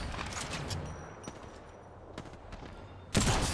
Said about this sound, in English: he's using a charge rifle